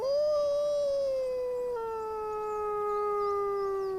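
A lone wolf gives one long, sustained howl that slides slowly downward in pitch. It is clear and steady over faint background hiss, with no talking.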